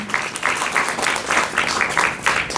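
A volunteer appreciation crowd aboard a Han River boat at Yeouido park applauds in dense, rhythmic waves of clapping, loud and close, with pulsing swells throughout.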